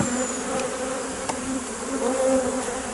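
Bees buzz around a beehive in a continuous close hum, with single insects droning past now and then.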